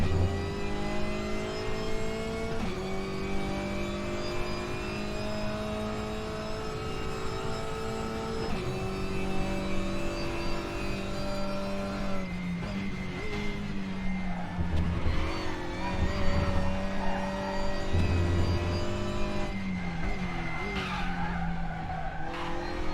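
A WTCR touring race car lapping the Nurburgring GP circuit in RaceRoom, engine droning loud and steady through the whole stretch, pitch climbing and dropping with upshifts, downshifts and braking.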